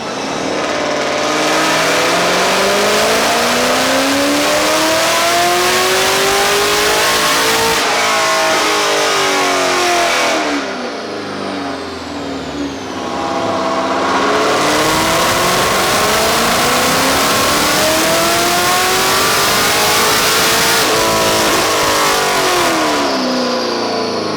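Car engine on a dynamometer run through two hard pulls, loud and close, rising steadily in pitch as revs climb, dropping to a brief idle lull between them, with no talking.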